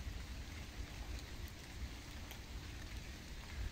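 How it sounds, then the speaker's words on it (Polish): Soft, steady rain patters and murmurs continuously, with a few faint droplet ticks and no voices. "Kiedy słychać tylko szemranie deszczu."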